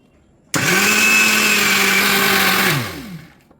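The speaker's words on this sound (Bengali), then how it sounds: "এটাকে আমরা এখন ভালো মিক্সিতে গ্রাইন্ড করব" A kitchen mixer grinder whirs loudly and steadily, grinding coriander and tamarind chutney, then winds down as it is switched off.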